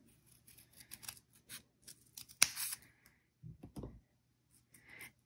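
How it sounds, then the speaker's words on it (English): Scissors snipping through a folded piece of paper for a paper flower, cut at an angle: a series of small close clicks and crisp snips with a sharper cut partway through, quiet overall with pauses between. "I'm going to take this and cut it at an angle."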